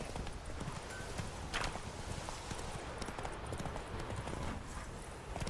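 Horse hooves in Witcher 3 as the rider travels, a steady clip-clop gait at moderate loudness over ambient game sound.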